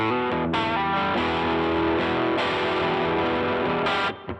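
Electric guitar played through a TS-808 Tube Screamer into a Fuzz Face, a thick distorted chord and melodic line ringing out loudly for a few seconds before being cut off.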